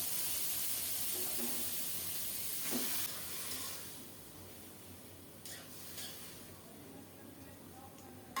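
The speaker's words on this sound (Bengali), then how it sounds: "কালো জিরা ফোড়নে দিলাম মাখানো শাকটা দিয়ে দিলাম" Mashed bottle-gourd greens dropped into hot oil tempered with black cumin, giving a steady hiss and sizzle that stays close and even, with a sharper burst in the middle as they hit the pan.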